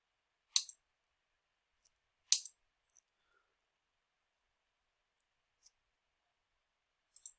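A computer mouse clicks a few times: two crisp double clicks near the start, a lone faint tick later, and another quick pair at the end, separated by silence.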